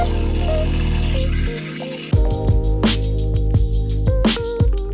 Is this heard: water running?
yes